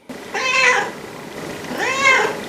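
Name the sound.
cat meowing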